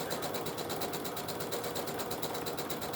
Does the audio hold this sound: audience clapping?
no